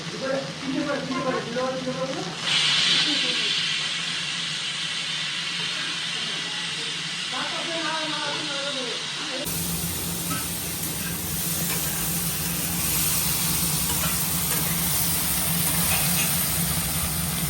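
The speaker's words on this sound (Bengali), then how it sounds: "এবার এই তেলের মধ্যে ঢেঁড়সটাও ভেজে নেবে একদম।" Okra frying in hot oil in a pan gives a steady, close hiss and sizzle, while a voice talks over it early on.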